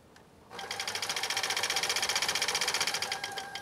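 A NEW HOME SL2022 all-mechanical sewing machine stitches a decorative pattern, its motor whirring up after a quiet start into a fast, even mechanical chatter, close and alone.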